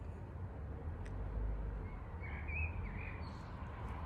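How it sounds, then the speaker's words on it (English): Faint birdsong chirps over a low outdoor rumble, a couple of short warbling phrases in the distance. "You can hear the birds singing there."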